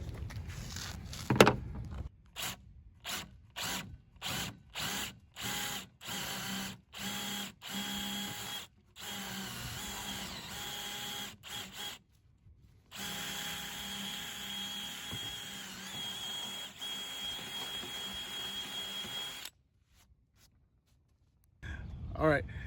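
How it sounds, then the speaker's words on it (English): A power drill boring a hole in a wooden mailbox post, running in repeated short bursts separated by pauses, then a longer steady run, faint and outdoors. "now that we've got the hole drilled in the post where the old hole was"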